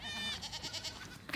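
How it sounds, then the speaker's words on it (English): Goats on a farm bleating, one long quavering cry followed by a run of shorter wavering bleats, fairly close and loud, with no talking over them. "Lots of goats."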